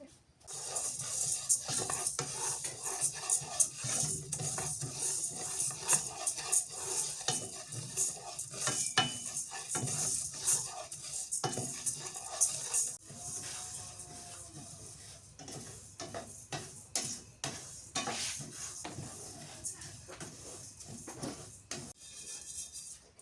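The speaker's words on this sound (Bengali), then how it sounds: "কালাইগুলা ভাজা হয়েছে" Black gram lentils are dry-roasted in a pan and stirred continuously, giving a steady rattling, scraping rustle with frequent spatula knocks against the metal, close and fairly loud throughout.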